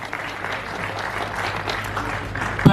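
Audience at a journalism festival event applauds steadily, a dense, even clatter of many hands filling the room from start to finish, with a slight swell near the end.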